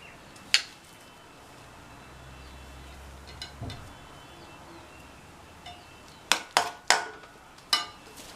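Spoon scraping and stirring aval puttu, sweet flattened rice, in a metal pan: a few sharp clinks and knocks against the pan over a quiet background, clustering near the end.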